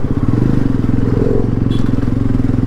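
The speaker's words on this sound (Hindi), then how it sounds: "बाइक तो जा रही है आगे मेरे, जाने देते हैं आगे या नहीं पता नहीं" A motorcycle rides through slow traffic on the Pokhara–Kathmandu road, its engine thrumming loud and steady up close with wind and road rumble and a brief clatter, and no talk.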